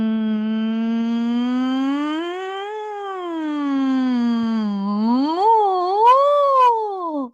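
A single voice sings a sustained nasal "ng" tone as a warm-up, gliding smoothly up and down in pitch, loud and close with no words.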